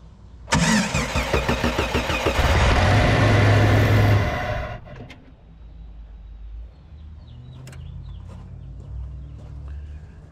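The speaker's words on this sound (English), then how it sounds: "I'll go ahead and crank it over now." A Jeep engine with a newly replaced fuel pressure regulator cranks loudly for about four seconds, fires on the first try, then settles into a steady, quieter idle. No one speaks.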